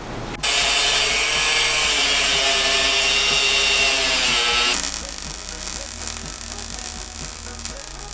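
A power tool cuts through a metal steering shaft on a rally kart build, a loud, steady grinding whine that shifts in tone about halfway through, close and continuous over a low rumbling hum.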